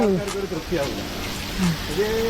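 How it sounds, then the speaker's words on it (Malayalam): A steady hiss of falling water from an artificial rain shower at a resort in Alakode, like a shower spraying down, runs throughout while voices talk over it close by. "പിന്നെ അവിടെ ഒരു സംവിധാനം റെയിൻ ഷോർ ഉണ്ട്"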